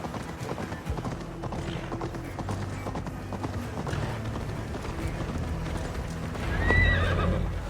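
A horse gallops in Assassin's Creed Valhalla, its hooves clip-clopping in a quick steady rhythm against a game backdrop, and near the end it gives a loud, close whinny.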